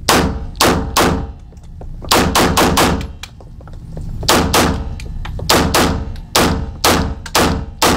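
An EAA Regard Gen 4 pistol fires in loud, sharp shots, first a quick pair, then a rapid string of several, and later more clustered bursts, each crack ringing briefly before the next.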